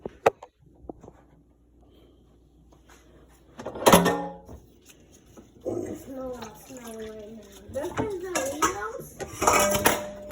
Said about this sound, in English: I'm gonna put the phone down for 1 second, guys, so I could just rinse out this pot